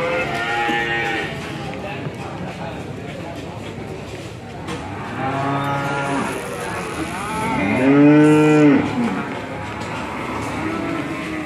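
Cattle at the Ambarketawang cattle market, several loud drawn-out moos from nearby animals over a busy outdoor background, the strongest call arriving late.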